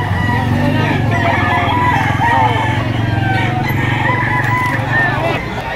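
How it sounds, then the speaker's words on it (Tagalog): Roosters and chickens, including SBR and Gull line gamefowl, crow and cluck loudly at a poultry market in Lipa, Batangas, with several birds overlapping over a constant busy hum and faint voices. "Tanghali na ay napakarami pa rin ang manok."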